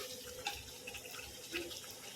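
Water goes into a kitchen pan of cooked tomato for Vidarbha-style panvade bhaji. It is a soft, steady pour heard faintly and fairly close, with no talking.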